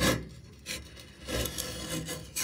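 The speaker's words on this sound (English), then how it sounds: "Just starting to clean up the little slider where the lift arm is in." Old grease being scrubbed off the lift arm slider of a 1954 Hille Ranger crank-up pop-up camper, a close, continuous scratchy rubbing with uneven strokes and no talk.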